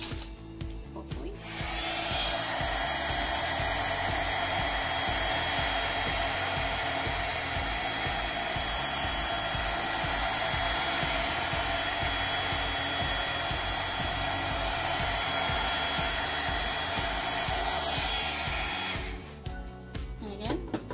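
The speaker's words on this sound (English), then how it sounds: "So now I'm going to use my heat gun one more time" A heat gun blowing over a galaxy-style resin nightlight produces a loud, steady rushing whoosh that holds for about seventeen seconds close by, then cuts off.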